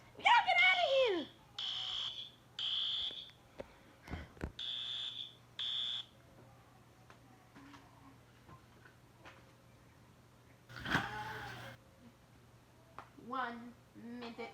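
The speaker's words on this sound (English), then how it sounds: "Oh, oh the fire alarms! It worked!" A fire alarm sounds in repeated bursts of a high electronic tone, some near and some farther off, with excited voices talking and shouting between and over the bursts.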